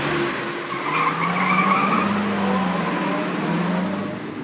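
A car skids with a long, loud tire squeal that holds steady for several seconds, alone with no talk, in a radio play about a hitchhiker.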